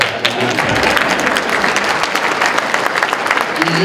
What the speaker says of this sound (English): Did I get a applause?